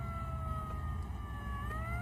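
An ambulance siren wails steadily as the vehicle speeds along, its rising and falling tone sustained over a low engine rumble throughout, part of a radio drama.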